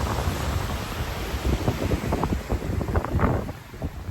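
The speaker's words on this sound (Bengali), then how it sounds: "মাঝে মাঝে ঢেউগুলো কিছু কিছু ঢেউ এত উপরে চলে আসছে" Ocean surf washes onto the beach at Cox's Bazar, a continuous roar of breaking waves heavily buffeted by wind rushing across the microphone.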